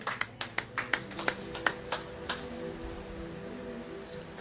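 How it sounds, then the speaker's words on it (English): A small congregation claps in a church service, a series of sharp, evenly spaced claps up front that loosen and fade into a softer, scattered patter under faint background murmur. "Somebody clap for Jesus."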